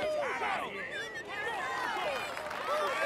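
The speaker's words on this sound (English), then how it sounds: "so please give them a round of applause" A crowd of race spectators claps and cheers before the start, with a steady wash of applause and excited voices filling the space throughout.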